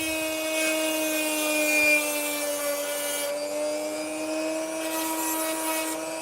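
An opal is ground down on a spinning wheel, giving a steady, close high-pitched whine with slight shifts in pitch as the stone presses against it, with no talking.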